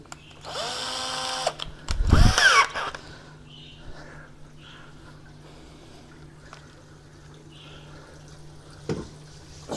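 A power drill drives screws while a Red Sea ReefDose 4 dosing unit is mounted for an aquarium setup, with one loud, close whirring burst near the start, a short second burst near the end, and a quiet room between them.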